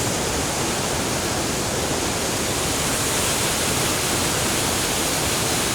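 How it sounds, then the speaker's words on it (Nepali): Water of the Handi Khola stream rushing and tumbling down in a steady, loud, full roar of broadband noise, unbroken from start to finish with no voices. "म यहाँ तपाईँ सुन्दै हुनुहुन्छ गडगडाएर झरिरहेछ। हेर्नुहोस् हाँडी खोला दृश्य सुन्दर छ।"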